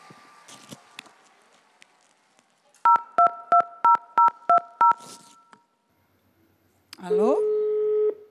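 A telephone sounds a run of evenly spaced dialing tones, about six short beeps in quick rhythm, after some handling noise, then a sustained ringing tone begins near the end.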